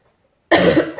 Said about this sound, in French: Excusez-moi, je commence à tousser.